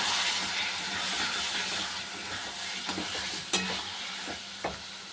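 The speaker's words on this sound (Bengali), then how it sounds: "এরকম মশলাটা কষানো হয়ে গেছে" Spice masala with Kashmiri chilli powder, salt and turmeric sautés in a pan for a fish roe curry, a constant hissing sizzle with a few distinct scraping strokes and taps of the spatula, close and free of speech.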